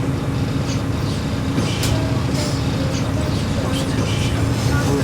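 Steady rumble of a train ride, a continuous low rolling drone with faint rattles and occasional clicks throughout, no clear talk.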